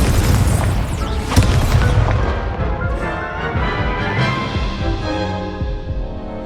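Incendio fire spell cast in Hogwarts Legacy, a loud deep booming blast at the start with a sharper burst shortly after, then rumbling, fading crackle and game ambience.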